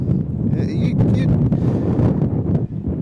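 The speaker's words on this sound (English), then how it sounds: "The wind is blowing directly at me here in right center field." Strong wind buffets the microphone in a continuous low roar at a high school baseball game, with gusts swelling and dropping, and faint voices mixed in underneath.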